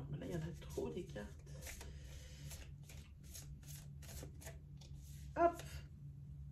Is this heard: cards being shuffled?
yes